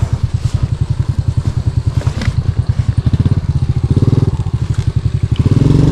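Motorcycle engine labouring loudly on a rough smugglers' border road between Guinea-Bissau and Guinea, a steady pulsing throb with rattles and clatter as the bike bumps along, close and continuous.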